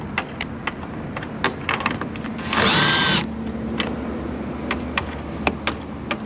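A 10mm socket on a ratchet handle loosening a Ford Fusion outer tail lamp, with brisk ratchet clicks throughout and one brief buzzing burst of tool noise in the middle, close and fairly loud.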